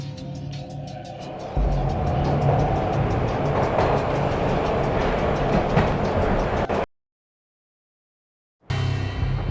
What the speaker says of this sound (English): This was my second train ride of the night.